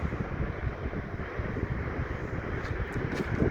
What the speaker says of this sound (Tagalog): Medyo mahangin sa taas.